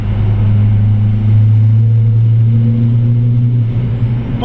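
A GT race car in the ADAC GT-Masters series holds fifth gear, a loud, steady, droning engine tone with no breaks, heard from close by.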